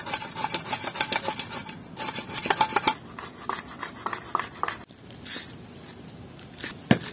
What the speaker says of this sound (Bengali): টমেটোটা গ্রেট করে নিচ্ছি।